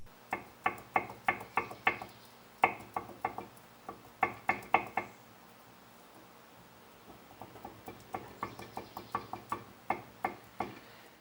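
A worn lower ball joint on a removed control arm knocks and clicks in quick bursts of sharp, close taps, several rapid clusters separated by brief pauses, with no talking.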